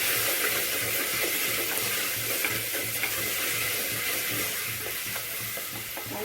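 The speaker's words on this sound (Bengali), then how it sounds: "রসুনের বাটাটা দিয়ে এবার টমেটো কুচিটা দিয়ে দেবো।" Chopped tomatoes and garlic paste fry in a pan for chicken biryani, giving a steady close sizzle with rhythmic stirring scrapes running throughout.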